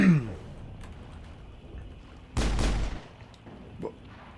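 A weapon firing in the sci-fi shooter game Mass Effect, heard as a single loud, brief burst of gunfire over faint game background, with a couple of softer incidental sounds before and after.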